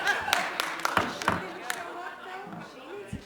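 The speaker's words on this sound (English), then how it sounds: "you need to stop clapping and shouting" Audience members at an assembly meeting clap in scattered, uneven bursts while people call out and chatter in the room, the claps sharp and fairly close, fading toward the end.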